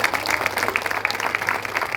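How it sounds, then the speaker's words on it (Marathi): Audience applause for the headmistress at a school alumni reunion, a brisk, steady patter of many hands clapping together, close and fairly loud throughout. "एकदा जोरदार टाळ्या आपल्या मुख्याध्यापिका मॅडमसाठी झाल्या पाहिजे"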